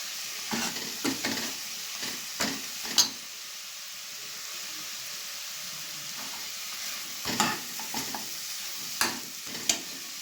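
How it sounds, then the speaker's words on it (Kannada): Mutton masala fries in a pan for sambar with a steady soft sizzle, broken by several short scraping stirs of a spoon against the pan. "ಒಂದು 10 ನಿಮಿಷ ಹಂಗೆ ಚೆನ್ನಾಗಿ ಫ್ರೈ ಆಗಲಿ."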